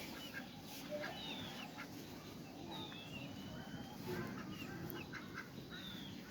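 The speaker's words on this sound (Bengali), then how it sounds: "এই যে আমাদের একটা চীনা হাঁস আছে" Faint quacks from ducks, including a Chinese duck, and other fowl calls on a poultry farm, scattered over a quiet outdoor background, distant and sparse.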